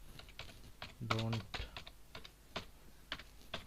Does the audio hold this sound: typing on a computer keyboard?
yes